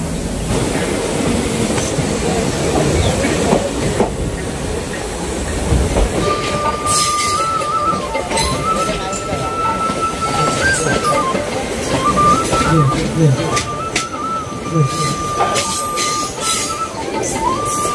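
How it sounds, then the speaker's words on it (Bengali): A local train on the Goalpara–Guwahati line pulls slowly out of Mirza station. Heavy clanking and rumbling come up close, and shrill, wavering wheel squeals join in partway through and keep sliding up and down in pitch. "ট্রেন ছেড়ে দিল আমাদের মির্জা স্টেশন থেকে, ধীরে ধীরে ছাড়ছে ট্রেনটা মির্জা থেকে।"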